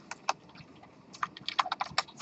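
Someone types C++ code on a computer keyboard: quick, irregular bursts of clicky keystrokes, sparse at first and then a denser flurry, close and moderately loud, with no speech.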